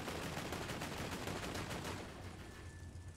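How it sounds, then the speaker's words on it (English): Rapid machine pistol gunfire in the Borderlands video game, a dense continuous burst of shots that runs for about two seconds and then thins out under game sound. "I just unloaded with the machine pistol."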